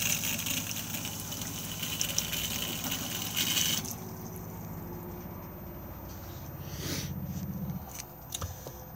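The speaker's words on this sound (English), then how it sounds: "So if we now run a tap, we will already have" Tap running inside a Tessoro 463 motorhome, a steady hiss of water that cuts back partway through, leaving a quieter flow with a few small knocks and splashes near the end.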